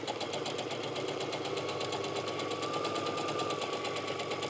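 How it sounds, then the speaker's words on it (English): A sewing machine runs steadily, sewing a quarter-inch seam in folded fabric, with a fast, even mechanical whir that holds unbroken at close range. "I'm going to sew it with a 1/4 inch seam"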